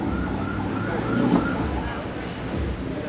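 A police car siren wails steadily near a roadway at an event for supercars and a Ninja 400 KRT motorcycle, a sustained loud tone over traffic rumble and engine noise.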